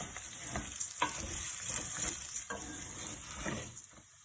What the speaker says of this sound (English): Add our rice and turn it a little through a wooden spoon so that it blends well with the oil and the onion.